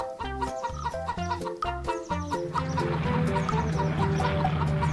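Chickens cluck in quick, choppy bursts, several birds close by, the clucking growing denser and more continuous after a couple of seconds.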